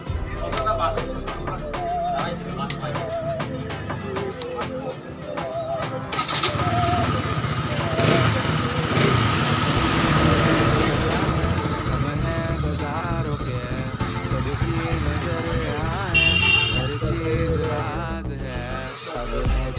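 A new motorcycle engine running, with a steady idle that rises into revving surges and pitch sweeps, loud and close, with people talking intermittently over it.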